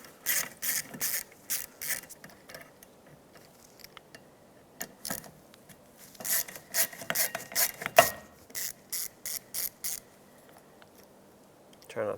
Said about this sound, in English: Remove both of the mounting screws that bolt the wiper onto the arm.